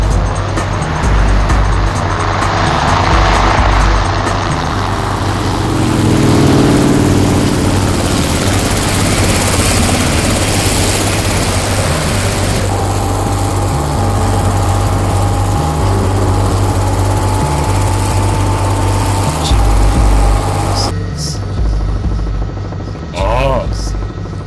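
A motorboat engine drones loud and continuous close by, a steady rumbling roar that holds without a break throughout.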